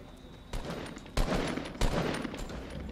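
Rifle fire in Fortnite: three loud, separate bursts of shots, close by, over a steady background of game noise, with no talking.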